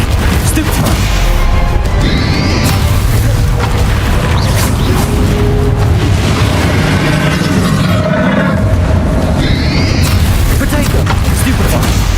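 In Hogwarts Legacy, a Stupefy spell is cast in a duel, bringing loud, booming magical impacts and crashing bursts. They come in repeated heavy waves over dense, busy game noise.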